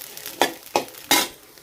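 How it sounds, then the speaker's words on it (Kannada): Cluster beans (gavarakai) cooking in a pan give three sharp scraping strokes at even intervals, each a short bright burst over a quiet, faint background. "ಈಗ ಗವಾರಕಾಯಿ ಫ್ರೈ ಮಾಡತ್ತೀನಿ."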